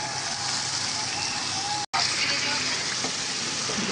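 Shrimp hitting a hot frying pan of spiced masala, giving a steady loud sizzle and crackle throughout, broken by one brief dropout near the middle.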